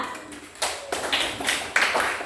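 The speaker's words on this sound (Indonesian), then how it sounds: "beri tepuk tangan untuk kelompok 2" A small group of students claps for their classmates in a classroom lesson, scattered hand claps rising in a few uneven bursts, fairly close and clear.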